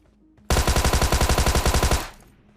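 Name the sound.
gunfire in a video game, AWM sniper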